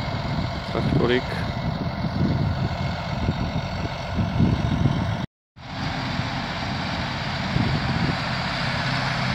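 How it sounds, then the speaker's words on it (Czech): A Case IH Magnum 280 tractor engine runs with a steady, close drone throughout, dropping out for a split second partway through, while people talk over it. "Traktorík."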